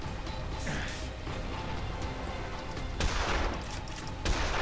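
Gunfire in the video game Dead Island, with loud, close bursts and booming shots over a dense, noisy game soundscape, plus a couple of heavier impacts near the end.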